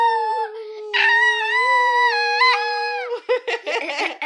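A person imitates a wolf howl with a long, rising and falling tonal wail rich in harmonics, held for about three seconds, then breaking into shorter yelping whoops at the end.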